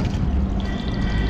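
Cold water pours in a steady, close stream at a roadside petrol pump on the route to Kedarnath, splashing continuously and evenly with no pause and no voices.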